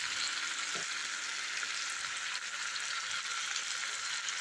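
Sausage browning in a frying pan for a home-cooked breakfast, a steady, dense crackling sizzle that holds close and even throughout with no voices.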